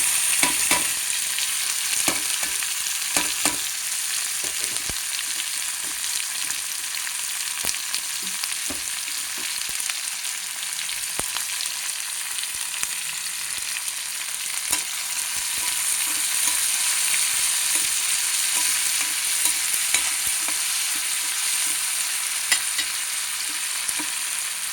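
Onions and tomatoes frying in a pan for brinjal chutney, a steady close sizzle with occasional stirring clicks and scrapes throughout, no voices.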